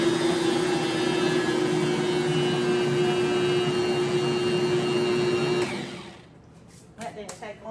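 A Bosch stand mixer whirs steadily as it mixes cookie dough made with freshly milled flour, a loud, close motor hum for about six seconds before it stops and someone speaks.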